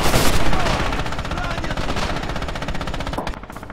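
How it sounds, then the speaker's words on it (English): Rapid machine gun fire in a WWII shooter set at Red October in the Battle of the Volga, loud, dense repeating bursts that carry on almost without pause before tailing off. "There's an MG on the left."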